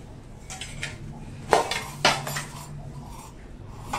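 A metal masala tin, the everyday spice box for tempering, is handled in a kitchen, giving two sharp metallic clinks close together amid lighter rattling and tapping, near and free of speech.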